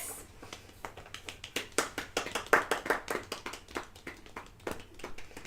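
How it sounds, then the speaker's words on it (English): Sparse, light golf clapping from a few people around a tabletop Dungeons & Dragons game, each soft clap distinct and unevenly spaced, quiet and close, with no voices. "Golf clap."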